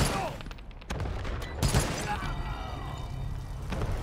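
Combat gunfire in Wasteland 3 sounds as loud overlapping shots and booms, a sharp burst standing out in the middle, with dense rumbling action throughout.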